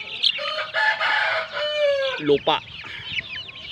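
Dong Tao chickens cluck and squawk up close in a farm enclosure, a busy overlapping burst of calls with one drawn-out crowing note, while a person talks briefly.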